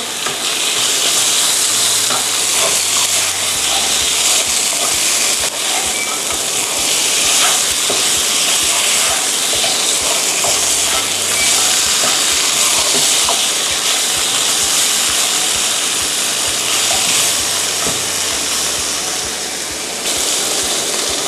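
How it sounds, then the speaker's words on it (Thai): Shrimp dry stir-frying with stink beans and southern Thai curry paste, a loud continuous sizzle and hiss with steady stirring and scraping close by, no added liquid. "เราจะผัดแบบแห้งๆนะคะ"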